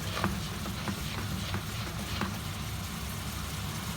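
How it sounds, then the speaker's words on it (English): Noodles being stirred into prawn chow mein frying in a pan with spring onions, a steady close sizzle with a low rumble beneath and repeated light scraping and tossing clicks. "last thing to go in for our spring onions we finish with is the noodles, and that's really just to reheat them back up and stir them back in"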